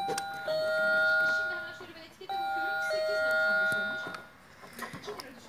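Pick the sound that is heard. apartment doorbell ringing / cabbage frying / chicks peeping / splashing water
apartment doorbell ringing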